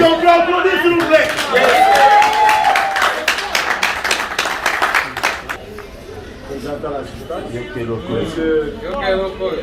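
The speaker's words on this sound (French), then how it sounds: "Est-ce qu'on peut applaudir s'il vous plaît?" Wedding guests break into a burst of clapping, dense and fairly loud for a few seconds before tapering off, with voices and chatter carrying over and after the applause.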